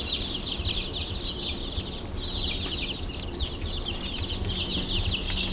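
Backyard chickens in a coop with pine shavings cluck and chatter continuously, a steady busy flock of overlapping calls close by, with no talk.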